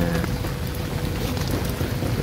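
Monsoon rain falling on a garden, a steady, dense patter and hiss of drops on surfaces, continuous and moderately loud with no talking.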